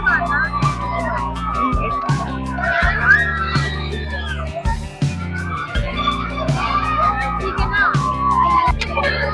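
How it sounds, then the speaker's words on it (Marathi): Riders scream on a Tora Tora ride at the Utsav 2024 fair in Dombivli, with loud, rising and falling cries layered over steady, booming fairground music and crowd noise throughout. "लोक किंचाळत आहेत."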